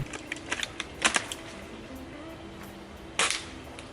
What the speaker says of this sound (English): We're gonna shoot it in the back first with the M40A3.